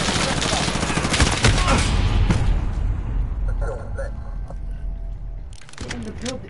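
Gunfire in The Punisher video game: a sustained burst of loud, rapid shots fills the first half, then fades into quieter game sounds before a brief return, with a person speaking over it.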